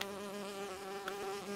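A cartoon honeybee buzzes nearby with a steady, bright, harmonic drone that holds evenly throughout, with no talk over it.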